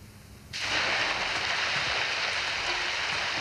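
Heavy rain begins abruptly at night, a dense steady hiss of downpour that swells in after half a second and holds loud and unbroken, with no voices.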